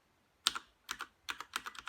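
Keys clatter on a Logitech G610 mechanical keyboard with Cherry MX Red switches, heard close up in a few short bursts of quick clicky strokes with pauses between them.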